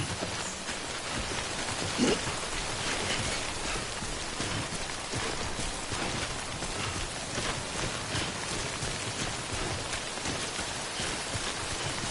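Steady rain, the timefall of the video game Death Stranding, falls in a dense, even hiss of drops hitting the ground, continuous and fairly close throughout with no voices.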